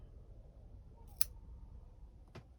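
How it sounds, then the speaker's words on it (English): Pruning shears snip a branch of a Portulacaria afra, one sharp crisp click followed by a fainter second snip, close and quiet against low background noise. "This one here, I think I'm going to snip it back to here."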